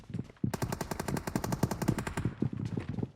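Rapid automatic gunfire from a weapon in PUBG Mobile, a long burst of evenly spaced sharp shots at a fast rhythm, followed by a few separate shots near the end.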